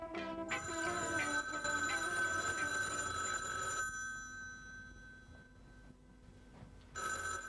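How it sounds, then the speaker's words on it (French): A telephone bell rings in a sustained metallic burst that fades out partway through, then starts ringing again near the end, clear and close with no voices. "notre téléphone est en train de sonner"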